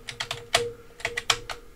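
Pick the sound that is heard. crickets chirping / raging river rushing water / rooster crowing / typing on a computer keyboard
typing on a computer keyboard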